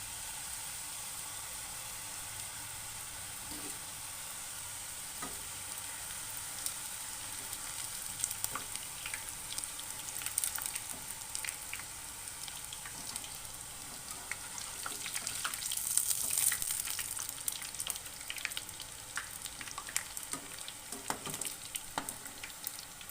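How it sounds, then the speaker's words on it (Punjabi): Green pea-shaped snacks made from wheat flour dough frying in very hot oil, a steady close crackling sizzle with bubbling bursts that swell briefly near the middle, no talking. "ਤੇਲ ਗਰਮ ਹੋ ਗਿਆ ਹਾਂਜੀ ਬਹੁਤ ਗਰਮ ਆ ਤੇ ਹੁਣ ਆਪਾਂ ਇਹਨਾਂ ਨੂੰ ਸਾਰੇ ਮਟਰਾਂ ਨੂੰ ਇਹਦੇ ਵਿੱਚ ਪਾ ਦਿੰਦੇ ਆ"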